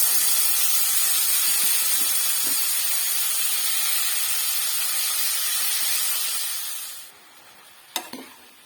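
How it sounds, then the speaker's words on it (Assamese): Radish pieces go into a hot pan with fish head and fry in a loud, steady sizzle that hisses for several seconds. The sizzle then drops off sharply, and a brief clank of utensil on pan follows. "এতিয়া মই ইয়াত মূলাখিনি দি দিছোঁ।"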